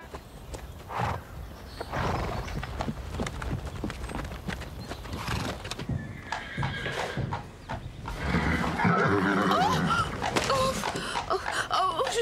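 A horse's hooves clip-clop steadily nearby with a whinny breaking through on a film set, the hoofbeats loud and continuous with no talk over them.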